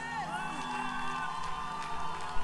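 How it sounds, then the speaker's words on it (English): A press conference audience applauds and cheers, with whoops and shouts rising over steady clapping, loud and continuous from a large crowd. "keep that round of applause going all the way until she gets on the stage"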